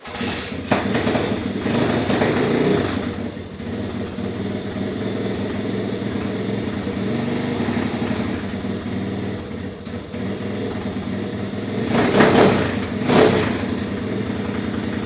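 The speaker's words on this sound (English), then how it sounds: "hear the exhaust is pretty loud on her." A 1983 Honda ATC 70 three-wheeler engine runs with a loud exhaust, a steady close mid-pitched putter that rises in a couple of brief revs near the end.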